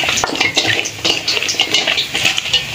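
Onion rings frying in hot oil while a batter or mixture is stirred by hand nearby, giving close, busy crackling sizzle with wet squishing and scraping bursts throughout.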